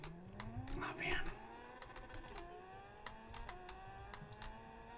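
A motorcycle engine in the Forza racing game revs with rising and shifting tones through gear changes, moderately loud, with a louder surge early on and people talking over it.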